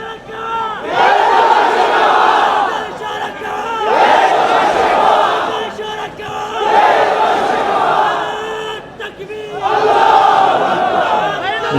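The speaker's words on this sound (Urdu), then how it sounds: "آپ ذرا نعرے کم لگائیں۔" A large crowd at a political rally chants slogans in loud repeated bursts, swelling and falling in roughly four waves of massed voices with short lulls between them.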